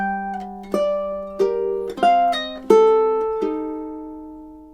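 Ukulele plays the opening measure of Tárrega's classical piece Adelita with rubato, a handful of plucked notes and chords spaced unevenly and left to ring, close and solo.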